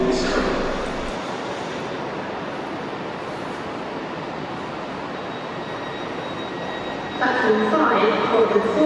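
A Northern passenger train to Ashington pulls into a platform at Newcastle Central, a broad rumbling roar that swells as it nears, with a brighter rise of wheel and brake noise toward the end.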